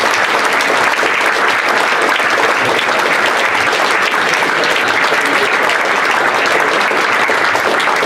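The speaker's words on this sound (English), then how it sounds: "A big round of applause for our top table tonight." An audience gives sustained, dense applause at a football club owners event, with many hands clapping together at a steady, loud level throughout and no pause in the clapping.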